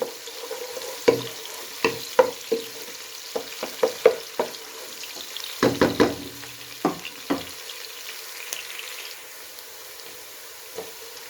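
Pan frying for a masaledar chicken shimla mirch salan, with a steady low sizzle broken by scattered clinks and scrapes of a spoon against the pan, some in quick clusters, fading quieter toward the end.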